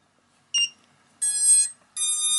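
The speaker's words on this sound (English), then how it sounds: "Just wait for the beeper to go off there." A lightweight FPV drone's beeper goes off after the battery is plugged in: a short chirp, then two longer high electronic beeps, close and clear against silence.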